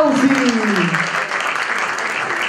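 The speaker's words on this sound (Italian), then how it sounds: "Applausi!" Applause breaks out at an evening birthday celebration, loud and steady for a couple of seconds, with a voice speaking over the start of it.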